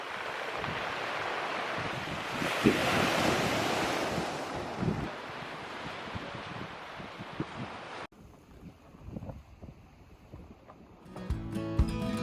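Strong sea water surging past a lighthouse on a stretch of French coast, a loud continuous roar of surf buffeted by wind noise, then a quieter, different outdoor scene near the end.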